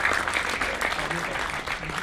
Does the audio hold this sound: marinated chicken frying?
no